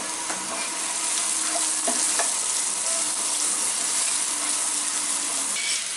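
Chopped onion frying in oil while being stirred, a steady broadband sizzle with small scraping clicks throughout, close and fairly loud, no voices.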